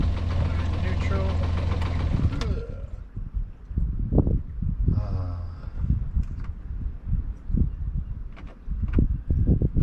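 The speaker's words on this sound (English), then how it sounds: "I'm gonna cut the engine." A low inboard engine on a 32-foot sailboat idles at anchor with a steady knocking chug, while a person talks over it in short phrases.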